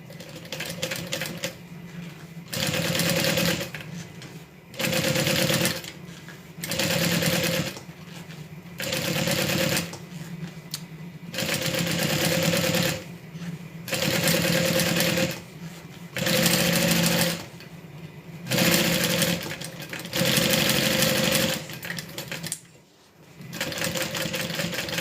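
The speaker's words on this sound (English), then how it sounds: "We're sewing bags here." A sewing machine stitches a crossbody bag in steady runs, each lasting a second or two and separated by short pauses, close and fairly loud with a rhythmic mechanical whir and clatter throughout.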